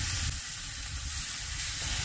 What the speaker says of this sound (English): listen to that bacon simmer